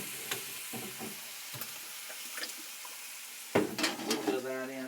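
A stir-fry bubbling and sizzling in a pan while being stirred, with scattered clinks of a utensil against the pan and a louder burst of clattering and sizzle near the end.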